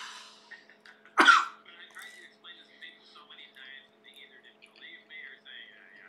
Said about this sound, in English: See, he's already coughing.